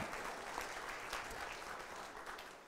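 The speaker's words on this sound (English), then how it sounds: "Round of applause for Brenda Jeter" An audience gives a round of applause for a speaker's mother at a community gathering, a soft, distant but continuous patter of many clapping hands with no voices over it.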